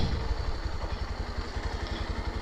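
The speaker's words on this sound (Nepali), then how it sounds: "मैले बाइकलाई फर्काएर घरभित्र हाल्छु" A motorcycle engine idles nearby with a steady, low, rapid thumping pulse that runs unbroken throughout, with no talking.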